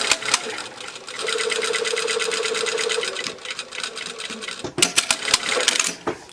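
A sewing machine runs steadily through fabric for a few seconds, close and whirring, then slows into a few sharp mechanical clicks and knocks.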